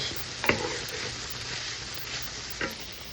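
Chicken sausage sizzles and fries in a pan in a steady crackling hiss, with two brief louder clicks of stirring near the start and end; no talking.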